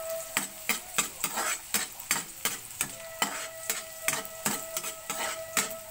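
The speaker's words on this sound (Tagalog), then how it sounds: "Gisa tayo ng bawang." Garlic sautés in a pan while a utensil scrapes and stirs in a steady rhythm, with a light sizzle underneath the repeated clicks.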